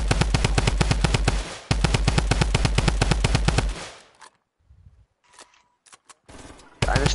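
Rapid automatic gunfire in a shooter video game, two long loud bursts of fast, evenly spaced shots, then quieter scattered sounds and a final burst.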